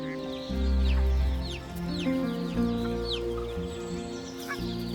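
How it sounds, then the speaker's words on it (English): Canada geese calling beside the Wupper river in Germany, several birds honking and clucking in overlapping bursts, close and fairly loud over a steady outdoor background. "Canada geese originate from North America, but have established themselves well beside the Wupper."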